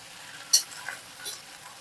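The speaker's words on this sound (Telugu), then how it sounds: "పోపు కలిసేటట్టుగా మంచిగా ఇలా కలిపేసేసుకోండి, అడుగు నుంచి పై వరకు మంచిగా." Bottle gourd pieces with tempering get stirred in a pan, giving two soft, brief scraping clinks about a second apart over a faint, quiet background.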